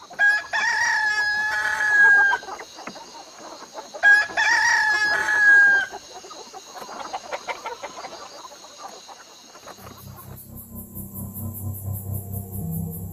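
A rooster crows twice, loud and close, long strained calls a few seconds apart, followed by a quieter, different sound.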